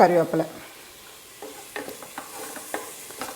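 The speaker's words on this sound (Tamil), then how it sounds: "இதையும் சேர்த்து ஒரு வதக்கிடுங்க" Soft sizzling of onions sautéing in a pan with scattered stirring scrapes and clicks, fairly quiet, no talking.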